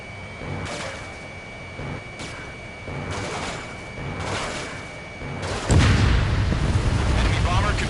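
In the Ace Combat video game, an enemy bomber is shot down and explodes. Radio chatter and repeated thuds run under steady jet noise, then a loud, broad explosion bursts in near the end and keeps roaring.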